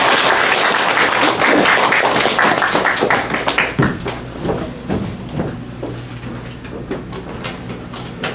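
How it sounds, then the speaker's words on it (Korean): An audience at an academic lecture claps to welcome the speaker, starting as dense loud applause that thins into scattered claps and fades. "박수로 맞이해 주시고요."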